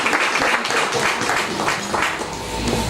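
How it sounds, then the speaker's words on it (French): Audience applause at a 48th anniversary dinner of the Miss Mauritius committee, a steady wash of many hands clapping throughout, fairly loud and continuous with no talk over it. "On applaudit bien fort."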